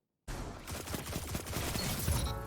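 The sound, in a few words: Traveler's Chosen sidearm gunfire in video game Destiny 2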